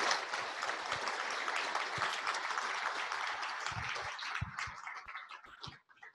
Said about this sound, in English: can we give our speakers a round of applause?